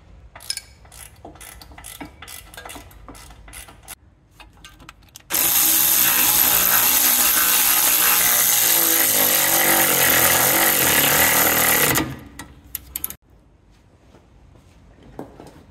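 A power tool runs loud and continuous for several seconds while a new brake caliper and brake hose are fitted to a car, framed by scattered clicks and ratcheting of hand tools before and after.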